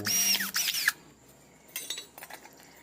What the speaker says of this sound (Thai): ดอกสว่าน3มิลนะครับทำการเจาะรู